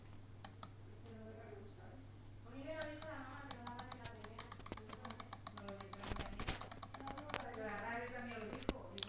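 Rapid clicking of a computer keyboard being typed on while a Happy Wheels game is played, irregular keystrokes clustering densely in the second half, with someone talking over them and a steady low hum beneath.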